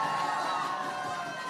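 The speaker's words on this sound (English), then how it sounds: "You need a big clap for Councillor Sarah Riley." An outdoor crowd at a pro-life march in Dublin cheers and calls out in a dense, steady roar that fills the short moment without a clear break.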